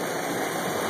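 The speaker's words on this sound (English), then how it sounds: "Look at all this water running up over the curb." Floodwater from a rainstorm in Enoch, Utah runs up over a street curb, making a loud, steady rushing wash with no pauses.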